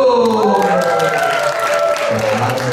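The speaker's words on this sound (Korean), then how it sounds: "박수!" Steady applause from a crowd at a church event fills the whole stretch, dense and continuous, with a tonal musical or electronic sound running underneath.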